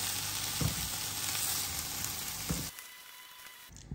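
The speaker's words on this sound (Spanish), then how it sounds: "En un sartén con aceite vamos a freír nuestros ajos y los chilitos." Garlic and small chilies frying in hot oil in a pan, a loud steady sizzle with a few sharper pops that cuts off abruptly near the end, no voices.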